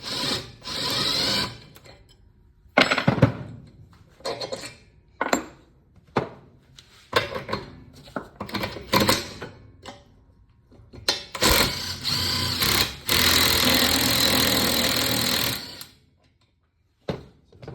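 Bolts are backed out of a rear spindle on a C3 Corvette in bursts of whirring power-tool noise, separated by short pauses and ending in one long sustained run.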